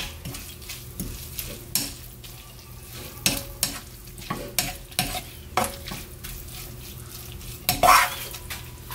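Spinach namul being stirred with a little white green onion in a pan, the heat turned off, giving soft scraping and clinking strokes of a utensil in irregular bursts over a faint background hum.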